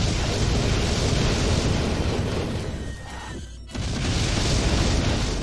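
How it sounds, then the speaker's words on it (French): In the Asterix & Obelix XXL Romastered video game, a loud boom sounds over a dense wash of game noise, which briefly thins before a sharp explosive burst hits and the noise floods back. "Explosion!"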